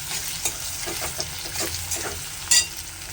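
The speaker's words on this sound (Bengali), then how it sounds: "এবার সবগুলো উপকরণ একসাথে ভালোভাবে ভেজে নিতে হবে।" Onion, garlic and green chilli frying together in a pan, a steady close sizzle with soft scraping stirs throughout and one sharper clink near the end.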